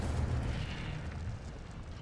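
A fire spell cast in the Hogwarts Legacy video game bursts out as a loud, rumbling whoosh of flame that rolls on steadily for about two seconds, heavy and low like an explosion.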